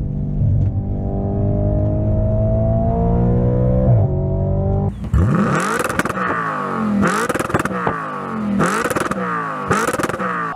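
A 2018 Audi RS5's 2.9-liter twin-turbo V6 idles steadily, then barks into a series of sharp, loud revs that rise and fall in quick bursts, close and with no talking.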